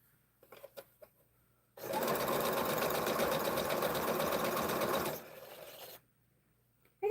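A sewing machine chain-stitches small triangle quilt block pieces in one continuous steady run of about three seconds, alone and close, with brief handling noises around it.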